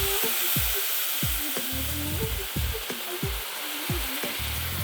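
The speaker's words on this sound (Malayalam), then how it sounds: "നമുക്ക് പാല് ഇതിലേക്ക് ആഡ് ചെയ്യാം" Milk goes into a hot pan holding banana flower and beetroot for payasam, and a continuous loud sizzle follows, broken by rhythmic scraping strokes of a stirring spoon, close by with no talk.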